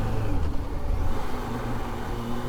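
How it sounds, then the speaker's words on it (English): A Kawasaki Z H2 motorcycle engine roars loud and steady nearby as the rider accelerates hard to lift the front wheel, with wind rush over the drone. "Let's see if I can just pull a wheelie quickly."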